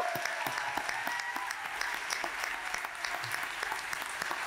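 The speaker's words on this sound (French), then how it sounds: "Une bonne main d'applaudissements." Steady applause from a crowd at a culture awards gala, a dense even clatter of many hands clapping throughout, with occasional louder individual claps standing out.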